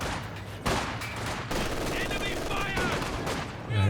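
Sustained Vickers machine gun fire in the strategy game Company of Heroes 2, a steady rattling stream of shots mixed with other battlefield gunfire under a talking voice.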